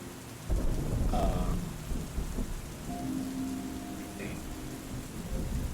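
Heavy rain pours steadily outside during a thunderstorm, with a deep rumble of thunder rolling in early and a continuous dense hiss of falling water throughout.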